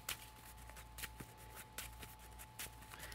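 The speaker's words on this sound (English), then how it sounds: "Shuffle this up." Middle-earth CCG playing cards being shuffled by hand close up, a run of soft riffling rustles with a few sharper snaps, quiet over a faint steady hum.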